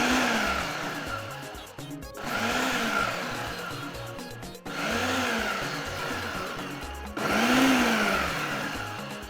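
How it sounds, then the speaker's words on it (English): A food processor roughly blends yellow habanero and red scotch bonnet peppers, running in loud bursts of whirring and chopping that stop briefly and start again three times. "Now I'll be blending this roughly, so that's why I brought out my food processor."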